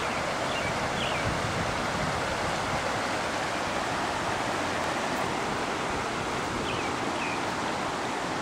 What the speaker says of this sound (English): Made a waterfall.